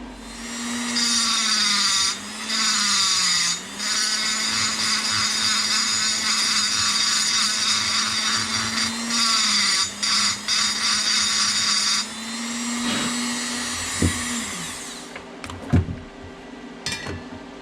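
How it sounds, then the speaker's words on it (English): Tungsten electrode being ground on a high-speed tool, a loud whining grind held steadily for several seconds with short breaks, then winding down to a few small clicks and taps. "All right, it's all ground out, tungsten's changed."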